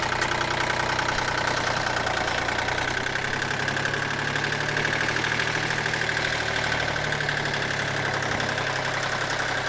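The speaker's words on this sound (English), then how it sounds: "Really curious if this microphone is picking up any of that tractor noise" Steady rumbling tractor engine idling close by, a continuous knocking drone with no pauses, heard through a helmet-mounted Edutige ETM-008 microphone on an open-face helmet.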